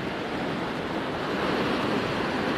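Atlantic waves break at a small harbour in the village of Guéthary on the French coast, heard as a steady, loud, unbroken wash of surf with no voices.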